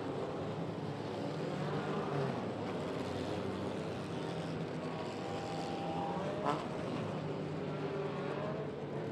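Mini stock race cars circling a short oval track during a 20-lap feature, heard as a steady, distant engine drone without any break, with no talk over it.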